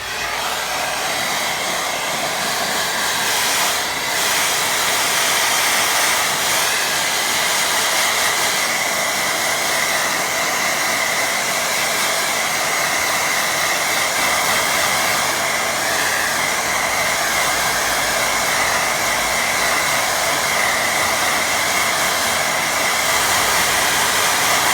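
A hair dryer runs continuously at close range, drying a watercolour painting of a sunset over a lake, with a steady, even whoosh and blowing hiss throughout and no talking.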